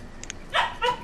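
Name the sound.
puppy barking in the background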